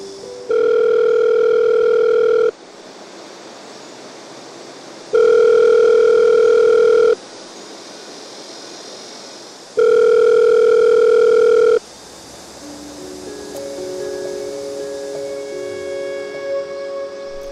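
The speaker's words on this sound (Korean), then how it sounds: "하지만 오늘도 받지 않는 전화" Unanswered telephone call: a steady ringback tone sounds in three loud, even bursts of about two seconds each, separated by silent gaps, then gives way to murky background street noise.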